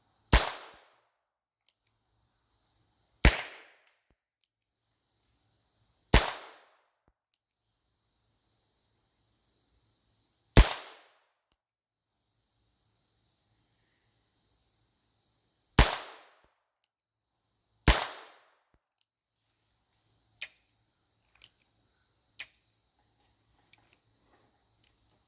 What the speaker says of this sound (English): You let the safety down, just cock it, and hopefully it'll shoot these shorts.